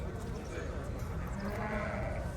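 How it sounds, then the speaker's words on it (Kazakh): Lambs bleat at a busy livestock market, several overlapping cries near and far, under a crowd murmur and people talking nearby. "Бұлар қозылар ғой дейді. Мына, қозылар."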